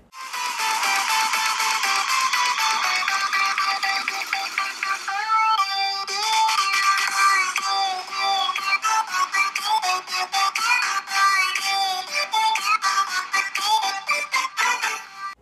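Loud music playing at maximum volume through the single mono speaker of a POCO M3 Pro 5G phone, steady and dense with a short break about five seconds in, then continuing with sharp rhythmic beats.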